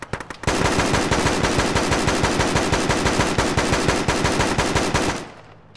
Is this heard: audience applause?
no